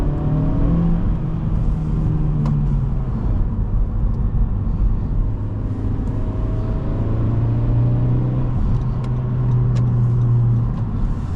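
A 2021 Honda Civic Sport Hatchback with a manual gearbox pulls along the road, its engine revving steadily with rising and falling pitch over continuous road and tire noise, loud and close from inside the cabin.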